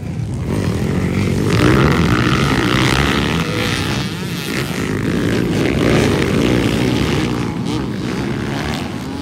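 Enduro motorcycles race in a local final heat at Alanib, Lantapan, Bukidnon, their engines blending into a loud, steady roar with no breaks.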